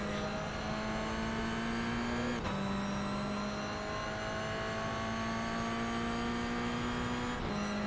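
A Toyota race car engine in the iRacing video game drones steadily at high revs for several seconds. There are two brief dips where it shifts gears, and a constant hum sits underneath.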